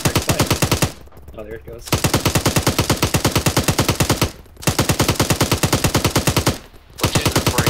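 Sustained machine gun fire in a video game engagement, rapid evenly spaced shots running in long loud bursts with short pauses between them, while a voice speaks briefly during one gap.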